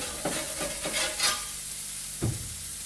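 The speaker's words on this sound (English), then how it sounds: "we'll just let them sizzle away" Food sizzling on a hot plate, a constant crackle broken by a few soft scraping stirs, close and moderately loud.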